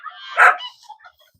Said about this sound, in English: He is barking at Bobby Socks